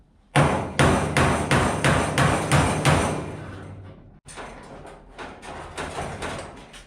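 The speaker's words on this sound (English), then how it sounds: "I'm just going to take my hammer and chisel right through that spot right there" Hammer driving a chisel through the sheet metal of a Dodge Charger body: about a dozen loud, sharp, ringing metallic blows in a steady rhythm, close up, with a brief pause midway before the strikes resume.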